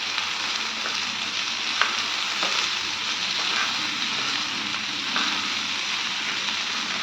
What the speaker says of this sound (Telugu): మంచిగా తిప్పుకోవాలండి